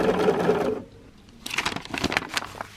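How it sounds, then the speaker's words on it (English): A Bernina sewing machine stitches a quilt seam, a brief close whirring run that stops, then soft fabric handling and clicks. "So now I can sew it."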